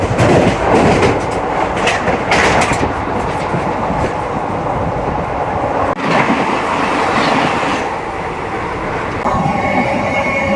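Sapthagiri Express train running on rails between Chennai and Tirupati, heard from onboard as continuous loud clickety-clack and rumble, with bursts of wheel noise and brief squeals throughout.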